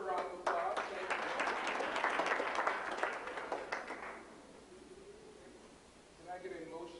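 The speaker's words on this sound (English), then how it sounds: "Let's give her a round of applause." Audience applause at a business meeting, a dense burst of clapping through the first four seconds that fades out, followed by a voice speaking.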